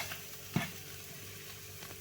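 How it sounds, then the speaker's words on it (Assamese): Mashed potato frying in a little oil in a pan for vada, a quiet, close sizzle with a brief scrape of stirring, alone without talk. "এইখিনি অকণমান ভাজি ল'ম তেল কম দিছোঁ"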